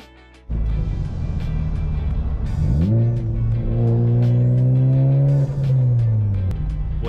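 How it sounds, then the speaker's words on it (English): A car engine starts and drives off close by, revving up through gears with a rising then steady hum, loud and continuous, with no talk. "he's driving Hunter's car"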